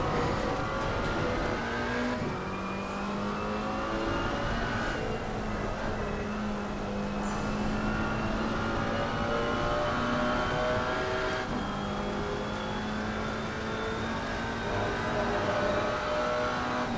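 A GT4 race car in Assetto Corsa Competizione drives continuously with a loud, close engine note that rises and falls through gear changes and braking, its whining harmonics sweeping up and down without pause.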